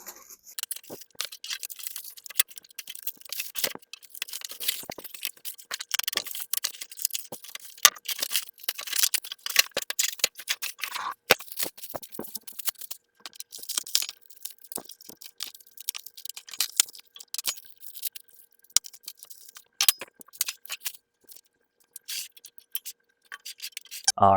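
Packaging being pulled off an InoKraft 5000W electric garage heater, with dense crinkling, tearing and rustling of wrap close by, continuous and irregular, no talking.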